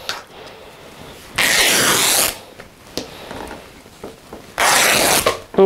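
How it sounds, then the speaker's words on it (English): Fabric for a vintage-style apron rips by hand in two loud ripping bursts with quiet handling noise between them. "this is tough to tear"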